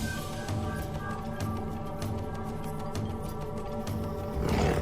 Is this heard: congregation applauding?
no